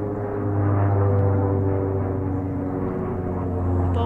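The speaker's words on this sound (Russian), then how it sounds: "Очень низко самолет летит." A low-flying airplane passes overhead above a small garden plot, giving a steady, loud droning hum with a deep engine tone that holds evenly throughout.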